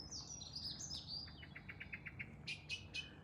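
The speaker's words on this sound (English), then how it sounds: "Morning, Mr. Blackbird." A blackbird sings in a garden in early morning in late May, giving a faint run of whistled and twittering phrases over quiet outdoor ambience, with no talking.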